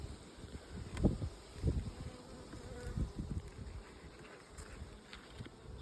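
Buckfast honey bees buzz around an open hive during an inspection, a soft steady drone with individual bees swelling louder as they fly past close to the microphone, with faint wind in the background.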